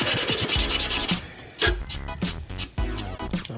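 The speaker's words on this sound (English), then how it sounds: "I'm gonna go ahead and sand these real quick." Dry wood pieces being hand-sanded for a console build: rapid rhythmic scratchy rubbing strokes, close and fairly loud, in short bursts with brief pauses between passes.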